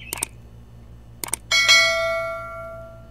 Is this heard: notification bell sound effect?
yes